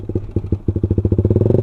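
A Suzuki Satria FU motorcycle with a Pro Liner exhaust blips its throttle on a quiet street, giving a close, loud, rapid popping exhaust pulse that quickens into a steady rev.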